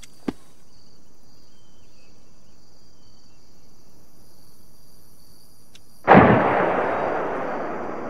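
Heavy video-game rocket artillery blast of 230 millimeter rockets: quiet insect-like ambience with a faint tick, then at about six seconds one sudden loud broadband boom that decays slowly into a long rumbling tail.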